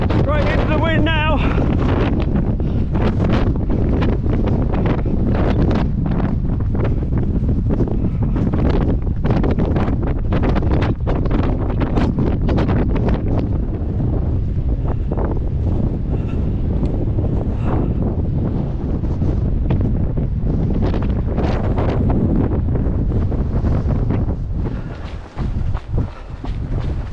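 Strong wind buffeting the microphone on the Cornish coast between Portreath and Godrevy, a loud continuous roaring rumble with gusting surges, easing slightly at the very end.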